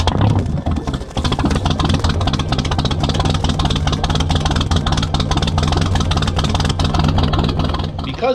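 A Chris Craft boat's inboard engine being run during winterizing, a loud, steady idling rumble with a continuous low throb and rapid firing pulses that barely vary over eight seconds.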